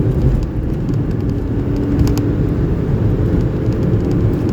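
A Suzuki Alto driven in third gear with the pedal floored, its small engine droning steadily under strain with road and wind noise, loud and close from inside the car, no talking.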